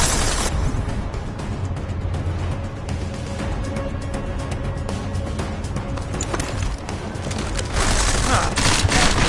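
Gunfire in Deus Ex Mankind Divided, a continuous barrage of rapid shots and impacts that stays loud throughout and swells near the end over a busy game soundscape.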